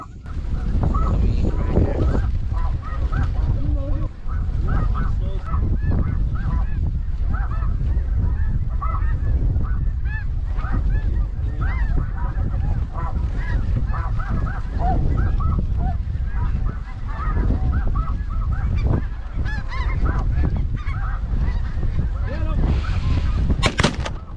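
A dense flock of snow geese honks loudly and continuously during a duck and goose hunt in Saskatchewan, Canada, with occasional sharp gunshot bangs in the mix.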